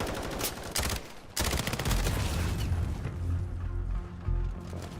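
Heavy gunfire in a Modern Warfare multiplayer match, with loud bursts of automatic fire and overlapping shots, a brief lull, then a continuous rattling fusillade with a few deep booms underneath.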